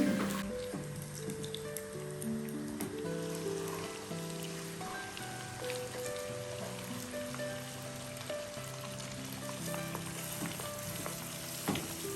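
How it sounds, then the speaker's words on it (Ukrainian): A soft, continuous sizzle and fine crackling of sour cream frying in a pan, steady throughout with no voices. "Сметанка наша жариться."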